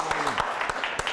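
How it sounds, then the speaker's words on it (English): A studio audience on a talk show applauds a local business donation, scattered distinct claps spaced apart with a voice speaking beneath, short and moderately near. "We get a round of applause from all the folks here"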